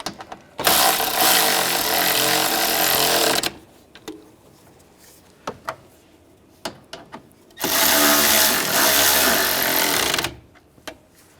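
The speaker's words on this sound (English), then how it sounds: "Take the two screws, get those started on both sides. And we'll tighten those down." A power tool drives the mounting screws of an AC condenser on a 2013-2016 Dodge Dart 2.4L. Two loud, sustained whirring runs are separated by scattered clicks and handling knocks.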